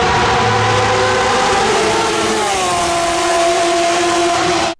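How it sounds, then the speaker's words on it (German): A Porsche 911 991 race car in the GT2 class at Le Mans 2018 screams past loudly, its high engine note sweeping down in pitch as it passes, with no talk. "Welcher 911er hat deiner Meinung nach den besten Sound? Und zwar ist das Le Mans 2018, glaube ich, der 991"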